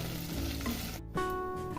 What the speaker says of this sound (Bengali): কাঁচা লঙ্কা আর আদাটা একটু ভেজে নিব